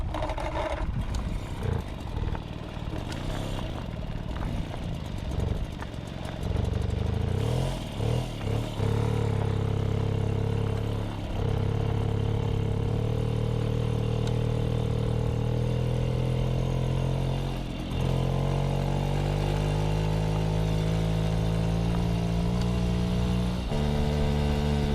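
An old Motobécane Mobyx moped, unrun for over 40 years and with a freed carburettor slide, starts and keeps running on choke: a steady, loud two-stroke engine drone throughout, its pitch wavering and dipping briefly before settling at a slightly higher idle.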